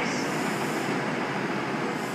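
A three-coach London Midland train rumbles steadily at Birmingham New Street station, a continuous broad roar of wheels and motors with no voices.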